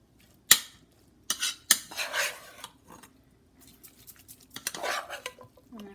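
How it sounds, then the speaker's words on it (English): Vegetables being stirred with salt and butter in a pan, a few sharp utensil clinks against the pan and scraping stirs in irregular bursts, quiet and close with no talking. "So, just literally mix it over. Get some of that salt and butter"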